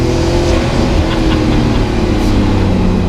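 A Fenyr Supersport hypercar runs its Porsche 3.8-litre twin-turbo flat-six of about 800 horsepower, a loud, close, sustained engine drone with steady harmonic tone and no talking.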